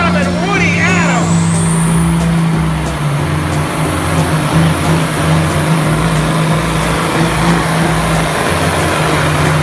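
A loud V8 Mack truck roars under load as it pulls a sled at a truck pull, its engine droning steadily with pulsing tones throughout, while an announcer talks over the noise.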